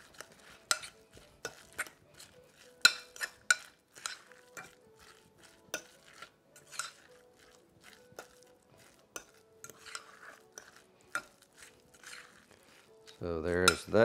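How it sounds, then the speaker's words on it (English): Metal utensil clinking and scraping in a bowl while stirring a chickpea salad with Dijon mustard, a steady run of light taps and scrapes with a louder clatter at the end, no talk. "So stir that up."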